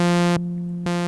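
An Omnisphere 2 synth tone with a square-wave LFO on the filter cutoff jumps abruptly between a bright, buzzy open sound and a dull, muffled closed sound, then snaps back open, sustained and steady with no talking.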